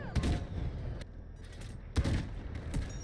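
Gunfire aimed at a tank turret during a Delta Force video game match: several bursts of loud shots stand out in the mix, with a player talking over the game sounds.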